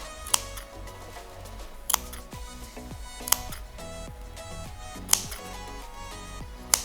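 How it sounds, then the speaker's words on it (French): Several sharp, crisp snips of scissors cutting fabric at irregular intervals, close by, over a quiet steady background hum. "des petits coups de ciseaux comme ça"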